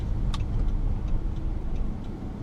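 A Dodge Charger RT accelerates at full throttle in sport mode, heard as a low, steady engine drone from inside the car with a few faint ticks.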